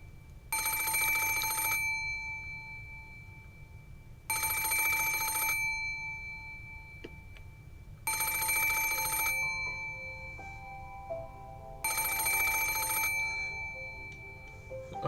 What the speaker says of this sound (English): the piercing sound of a phone rang through the room